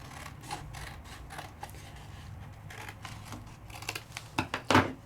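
Scissors cut a piece of card stock for a card mat, with soft rustling and snipping that builds into a few louder, close crisp cuts at the end.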